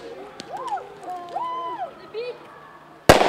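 A grenade detonated during a school demonstration, with fragments flying. Voices talk first, then a sudden loud blast bursts in near the end and carries on to the finish.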